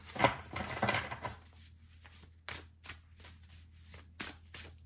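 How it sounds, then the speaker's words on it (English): Soft riffling and snapping of cards being shuffled, a burst of rapid flutter followed by several quieter, separate slaps and taps, close by. "One more shuffle."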